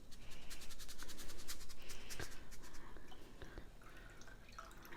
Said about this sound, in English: So we're going to drain the rice into our sieve.